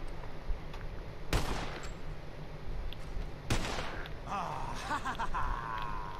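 Two sharp gunshot cracks from a Red Dead Redemption game session, the first near 1.3 seconds and the second near 3.5 seconds, each with a short echoing tail over steady ambient game noise and background voices.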